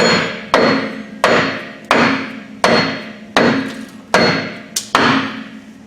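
Companion flange being hammered onto a shaft on a 2004 Ford F-350 with the 6.0L engine: seven loud, evenly spaced metallic hammer blows close by, each ringing briefly before the next strike.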